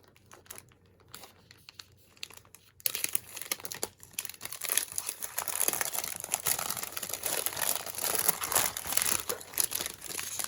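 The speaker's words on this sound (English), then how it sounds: "Just rip it open." A card making kit package being ripped open by hand, loud continuous crinkling and tearing of plastic and paper that starts abruptly after a few quieter seconds and keeps going to the end.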